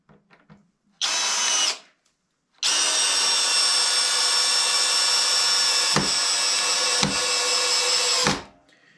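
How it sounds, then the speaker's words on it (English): A Greenworks cordless drill on its highest clutch setting drives a 4-inch screw into wood: a short whirring burst, a pause, then a long steady whine with a few strained dips before it stops. "See how well we drive this all the way into the wood here."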